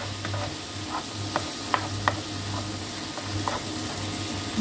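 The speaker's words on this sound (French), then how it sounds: "Ici, j'ai de l'oignon et de l'ail écrasé. Je vais encore attendre un tout petit peu que ça cuise bien." Onion and crushed garlic sizzle steadily in a pan for a bolognese sauce, with a few sharp scrapes and clicks of stirring over the frying hiss and no talk.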